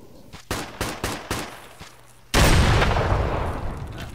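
A fragmentation grenade detonates in the Arma 3 military shooter, a loud broadband blast with a long rumbling tail, following several sharp gunshots close by.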